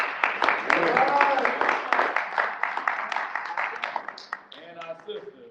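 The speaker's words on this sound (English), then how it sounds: "Let's go ahead and give a round of applause for Miss Ella Green Moses." An audience claps in a dense, steady round of applause at a Kwanzaa gathering. Voices carry over it throughout, and the clapping thins out toward the end.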